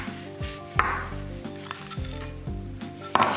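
Close scraping and rubbing as coconut shreds and coconut crystals are mixed together in a bowl, with a few sharper knocks against the bowl.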